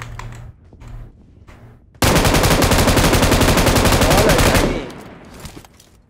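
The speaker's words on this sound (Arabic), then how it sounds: "الضرب ده جاي منين ده؟" Rapid automatic gunfire in a video game bursts in suddenly, loud and continuous for about three seconds before fading, preceded by softer game sounds.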